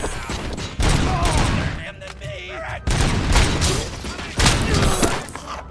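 Gunfire in the Robocop Rogue City game, with repeated bursts of shots and heavy thuds in several loud waves and game voices shouting beneath.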